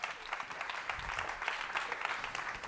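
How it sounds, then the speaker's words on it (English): Faint, steady applause from an audience at a food summit panel on cultured meat, a continuous patter of many hands lasting a few seconds, heard from a distance with some hall noise. "Big round of applause for them."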